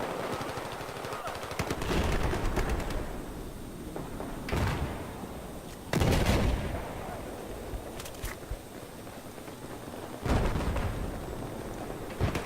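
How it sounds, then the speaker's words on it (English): Gunfire in a Battlefield video game: scattered bursts of shots and sharp impacts in uneven clusters, moderately loud, with a little talk in places. "Someone's shooting."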